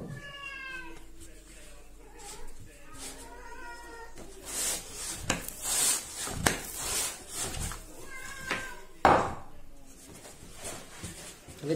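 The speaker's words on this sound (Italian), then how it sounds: "ti facciamo entrare il gattino" A kitten meows repeatedly in drawn-out, rising cries near the listener, alternating with someone talking softly to it indoors.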